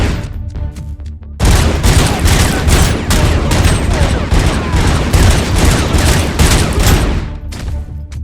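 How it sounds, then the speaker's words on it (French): Heavy machine gun fire in the video game Robocop Unfinished, a dense, loud, continuous burst that starts after a quiet second and hammers on for about six seconds before cutting off. "mitrailleuse lourde."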